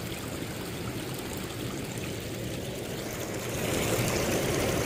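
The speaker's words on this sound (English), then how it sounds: "Started seeing it hitting the creek there, and like I said, there's a big rain coming" Rain beginning to fall on an Indiana creek in winter, a steady broadband hiss of drops on flowing water that grows denser and louder in the last second or so, with no voices.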